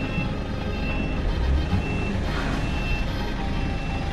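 A reversing vehicle's backup beeper sounds steadily as it backs up on a road in Slovenia or Croatia, under a constant loud engine and road rumble with no speech.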